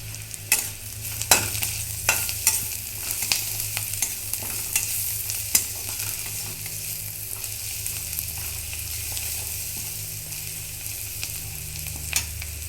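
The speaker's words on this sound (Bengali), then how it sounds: "পেঁয়াজটা ভালো করে ভাজা হয়ে গেছে, দিয়ে দিচ্ছি হলুদ।" Onion with turmeric frying in a pan for a ridge gourd (chichinga) dish, a steady sizzle broken by repeated scraping stirs throughout, close and moderately loud, with no talking.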